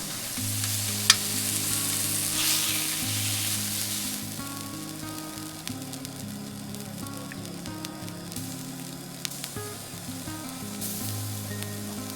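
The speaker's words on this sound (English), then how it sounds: "the sound of sizzling carne asada filled the canyon" Steady, dense sizzling of carne asada searing on a hot grill outdoors in a canyon in Arizona, continuous and close, with occasional sharp pops and crackles.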